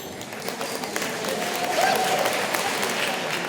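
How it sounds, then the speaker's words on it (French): An audience applauds at a regional community event, a dense, steady wash of clapping from a crowd that builds slightly and holds. "vous pouvez vous applaudir aussi, vous-même."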